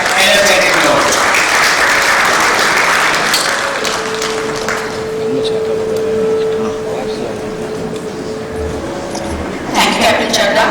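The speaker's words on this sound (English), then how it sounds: "a round of applause please to start off on an exciting and energetic note" An audience at a maritime conference's inaugural session breaks into loud applause that thins out midway, leaving room hum and a steady tone, then swells again briefly at the end.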